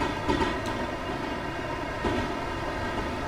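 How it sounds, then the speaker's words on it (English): A GWR Class 801 train in Train Simulator 2017 rolls past with a steady, continuous rumble and rail noise, a couple of brief clatters standing out near the start and again partway through. "Quite a nice looking train, the Class 801 GWR reskin"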